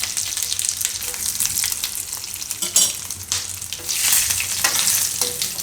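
Red chilli pieces, asafoetida and curry leaves frying in hot oil for a Gujarati besan bhurji give a steady, close sizzle with bursts of spattering and stirring, and no voices.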